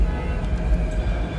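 A metro train in Mumbai rumbles along with a low, continuous rolling drone, heard from inside with no talking.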